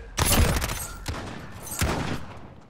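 Sniper rifle shots in Call of Duty: Modern Warfare, two loud, sharp cracks about a second and a half apart, each trailing a short echoing tail, with a fainter pop between them.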